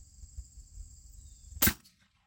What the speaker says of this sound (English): I'm going to aim for about center of the block now to get a center shot.